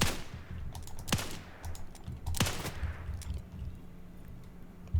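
Gunfire in Wild West Online: two sharp, loud shots about a second apart stand out over faint background rattling and clicks, with no talk.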